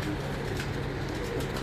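Pigeons coo steadily on a pigeon breeder's rooftop in Muscat, a soft continuous murmur under a broad, noisy ambient wash.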